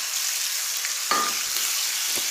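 An onion, garlic and green chili paste fries in a pan for stuffed brinjal, a bright continuous sizzle with a couple of sharp stirring scrapes.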